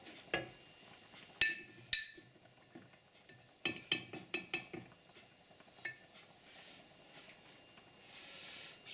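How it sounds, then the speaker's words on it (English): Lasagne ingredients are stirred in a bowl with a spoon, making quiet scraping and a few sharp clinks spread unevenly over several seconds against a soft background. "Just stir it in."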